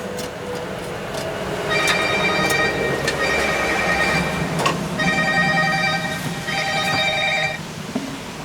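A telephone rings repeatedly in bursts at a yakitori food truck, the bell-like trills sounding loud and close over a steady background hum, with no talk.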